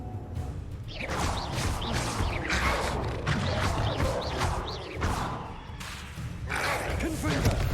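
Confringo fire spells blast repeatedly in Hogwarts Legacy, a dense run of thumping explosive bursts and whooshes over roaring combat noise, loud and continuous.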